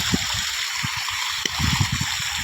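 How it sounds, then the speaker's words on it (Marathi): River water rushes and gurgles in a steady, close hiss, broken by soft splashes and bubbling pops over a couple of seconds, with no voices. "हे कसं खळाळ पाणी चालू आहे हे बघा नाही नदीचा एकदम नजारा कसा आहे"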